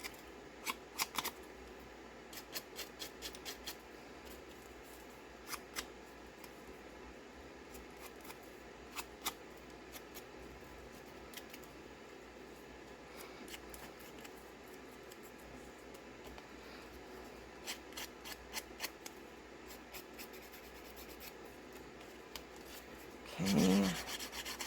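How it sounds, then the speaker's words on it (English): Lapbook paper pieces have their edges scraped for a distressed look, giving faint, close, scratchy rasping strokes that come in short clusters throughout, with a louder rustle at the very end. "Let's just scrape them all, and then we'll just ink them all at the same time."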